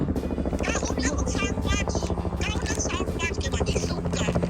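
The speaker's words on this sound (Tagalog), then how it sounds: "Helicopter rides." A helicopter flies over Sedona, Arizona, its rotor chop a steady, fairly loud drone that runs continuously while people talk over it.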